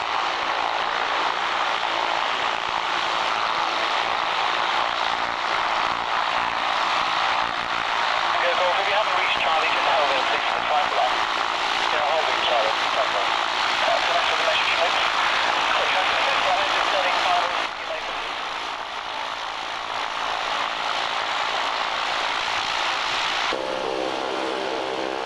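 B-25 bomber's piston propeller engines run steadily at a broad, loud drone while lining up on the runway, the tone shifting partway through, with radio chatter and speech mixed in.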